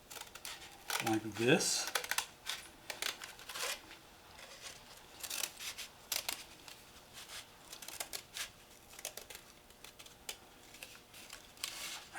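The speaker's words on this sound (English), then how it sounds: "I'm going to take my kitchen shears and I'm going to cut the back of this" Kitchen shears snip through craft material for a dragon, giving a series of short, close crisp cuts that stand out clearly, with a voice speaking briefly partway through.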